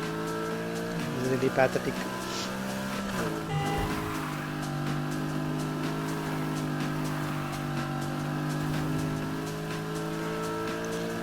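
A BMW M3 racing in the video game Need for Speed Heat, its engine a steady drone with brief tire squeals and a few scraping bumps against barriers, while someone talks over it.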